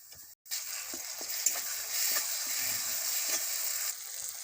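Ginger garlic paste sizzles loudly in hot oil with browned onions, a steady bright crackle after a brief pause, with a few spoon scrapes and stirring knocks across the pan.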